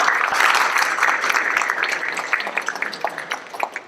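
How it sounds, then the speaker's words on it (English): A crowd at a mayor's budget forum applauding, a dense clatter of clapping that thins out toward the end into scattered individual claps. "let's give them a round of applause for great."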